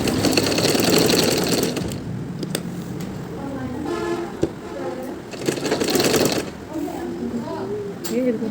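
A sewing machine stitches a zipper onto a kameez in two short, close bursts of whirring, with a person talking in between.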